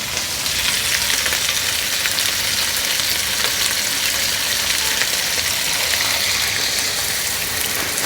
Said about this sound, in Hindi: अब इसके अंदर डालते हैं स्लरी।